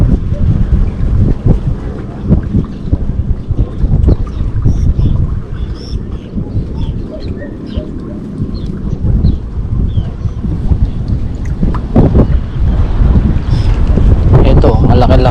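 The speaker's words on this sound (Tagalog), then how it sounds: "Sobrang lakas ng hangin eh." Strong wind buffets the microphone at a fishing pond in a steady, loud roar of low rumbling gusts, with no clear talking.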